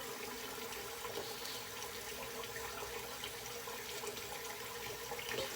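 A tap runs steadily while a face is wetted for a wet shave, a faint continuous splashing hiss with no talking.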